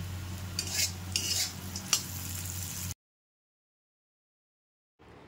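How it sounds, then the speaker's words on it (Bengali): Potatoes fry in oil for mutton kosha, a soft sizzle with a few clinking stirs over about three seconds, then a sudden drop to silence before faint sound returns. "আর এবার আমি মাটনে যে আলুগুলো দেবো ওগুলো ভেজে নিচ্ছি।"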